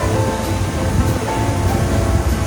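Ocean surf on the rocky shore of Hongdo island roars as a steady, broad wash of waves, loud and continuous with some wind mixed in and no voices.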